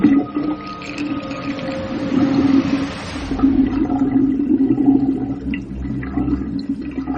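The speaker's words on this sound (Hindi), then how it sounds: "बेसन में से पानी एक झटके में घरघराता हुआ पाइप से बह गया" Water gurgling down a drain pipe from a basin, a loud close rushing flow with bubbling, swelling and easing over several seconds before tapering off, with no voices.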